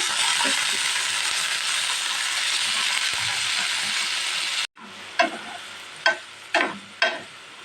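Raw plantain slices, added after onions, fry in oil in a pan for a South Indian stir-fry, giving a steady loud sizzle that cuts off, then several sharp stirring scrapes and clinks over softer frying.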